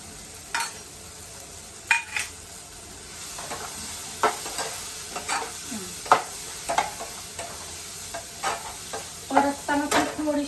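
Vermicelli upma ingredients sizzle in a pan while a spoon stirs and scrapes against the metal in scattered clinks, a steady close frying hiss running beneath.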